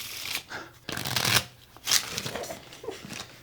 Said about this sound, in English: you can shuffle those cards